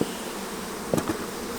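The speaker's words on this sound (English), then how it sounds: "So we've smoked the bees down in this smaller colony right here" Honeybees in a small hive colony, made up in early April and smoked down, give off a steady, soft buzzing hum that continues throughout with brief louder swells near the middle.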